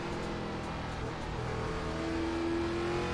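An ARCA Menards race car engine in iRacing on the Charlotte Roval road course drones steadily under throttle, with a rising whine toward the end. It stays loud and close, with no voices.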